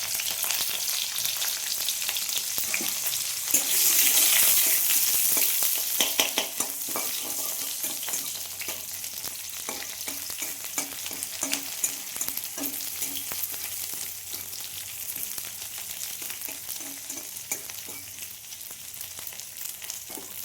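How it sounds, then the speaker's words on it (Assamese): Banana flower frying with dried red chillies in a pan, a steady close sizzle with scraping and stirring throughout. "কলফুল অলপ ভাজোঁ, শুকান জলকীয়া দিলোঁ"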